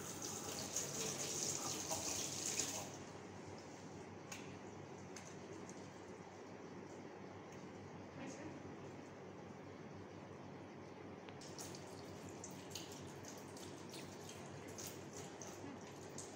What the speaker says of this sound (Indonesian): Melakukan cuci tangan.